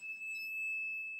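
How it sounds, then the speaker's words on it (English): A digital AstroAi clamp meter multimeter sounds its continuity-test beep: one steady, high, pure electronic tone held for just over a second, clear and alone against a quiet background. "you can hear the beep"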